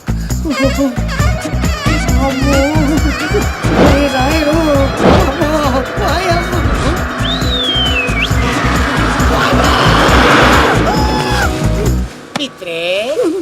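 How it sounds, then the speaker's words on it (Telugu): A film sound effect of a bus crashing into a bathroom: a loud roaring engine with squealing, skidding tyres and impacts runs continuously under shouting voices, then cuts off abruptly near the end. "బాత్రూమ్ లోకి బస్సు వచ్చింది"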